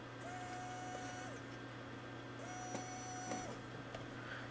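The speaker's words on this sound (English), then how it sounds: "Now the motor will go off, because I'm sending out a frequency that the receiver is tuned to respond to." A small electric motor controlled by an RC transmitter and receiver whirs on and off twice, each faint whine rising and then winding down after about a second.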